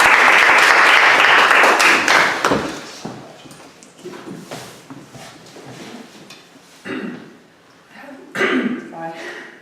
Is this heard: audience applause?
yes